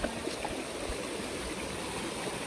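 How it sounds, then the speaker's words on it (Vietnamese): A mountain stream used for household water flows past wet, slippery rocks in a steady, broadband rush, close and continuous with no talking. "Dòng suối mà Hoan dùng để làm nước sinh hoạt"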